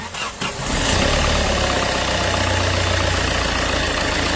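A Tata Safari SUV engine cranks briefly and catches at night, then settles into a steady, rumbling idle close by.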